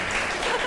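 Studio audience applause on a Pakistani morning talk show, a brief, steady burst of dense clapping with no pauses.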